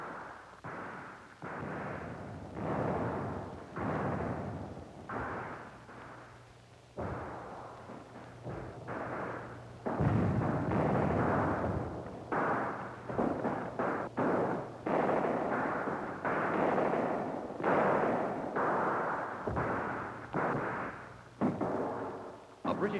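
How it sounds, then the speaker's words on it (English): Cannon bombardment of the 1958 Yorktown siege, a run of repeated booming blasts in irregular succession, loud and rolling, with someone narrating over it. "American and French gunners laid down a devastating bombardment."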